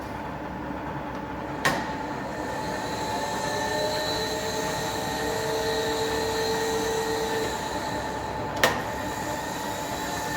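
Milling machine table traveling under automatic power feed, a steady mechanical whir and hum running evenly throughout, with two sharp clicks and a faint tonal whine partway through.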